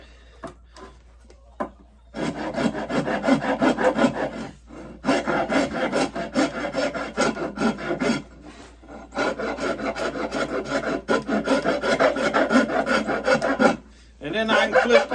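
A farrier's rasp files and shapes a piece of wood in long runs of steady, gritty back-and-forth rasping strokes, close and loud, with short pauses between bursts and no talking.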